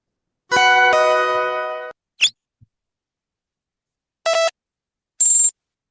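A series of electronic tones: a sustained chime, a short chirp, then two brief beeping bursts, loud and clear against silence.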